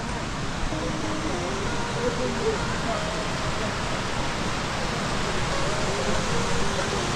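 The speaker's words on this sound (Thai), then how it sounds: "นี่อะผ่านน้ำตกละ" Steady, broadband rush of a waterfall passed on a mountain trail in Pakistan, constant and fairly loud with no breaks.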